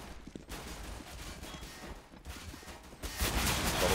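Gunfire bursts in a professional Counter-Strike match on de_cache, several separate volleys of sharp shots, loudest toward the end, with no talk heard.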